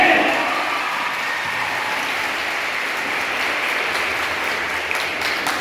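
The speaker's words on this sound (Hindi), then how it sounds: "एक बार जोरदार तालियां हो जाए" Sustained audience applause at a school Women's Day celebration, a dense wash of clapping from a large crowd, loud and close, starting at full strength and holding steady with faint voices underneath.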